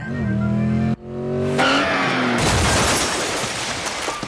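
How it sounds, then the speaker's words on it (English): A cartoon car driven by a mother with her son inside skids with squealing tires, and the sound swells into a loud, sustained noisy crash that fills the rest of the moment, with no talking. "her part is to crash her car with her son inside"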